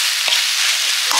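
Garden-grown jute leaves fry over a low flame in a home kitchen with a steady, dense sizzle that stays close and loud throughout. A couple of brief stirring scrapes cut through, and no one speaks.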